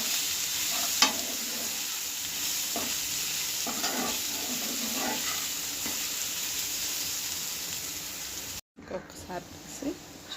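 Food is stirred in a hot frying pan, with steady sizzling throughout and a few scraping stir strokes, cut by a brief silence near the end before sizzling and scraping resume.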